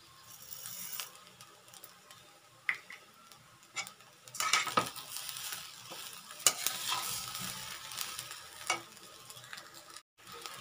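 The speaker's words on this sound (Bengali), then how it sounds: "আমার চালটা কিন্তু একদম ভালো ভাজা হয়ে গেছে" Rice stir-fried in a pan with a little sugar: irregular metal scrapes and clatters of a utensil against the pan over a soft sizzle, with louder, busier stirring in the middle stretch.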